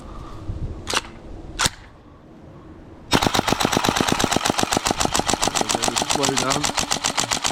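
A GHK AKM airsoft gas blowback rifle firing, two single shots and then a long rapid full-auto burst emptying the magazine, loud and close with a voice heard faintly underneath.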